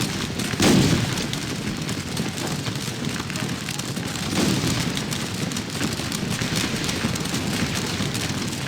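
Musket volleys in the Napoleonic battle game Scourge of War Waterloo give a couple of dull booms over a constant roaring din of distant battlefield fire and noise.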